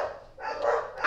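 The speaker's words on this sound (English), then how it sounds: "I have such crazy dogs." Dogs bark and yelp in a single short, fairly loud burst lasting about a second, with no talking over it.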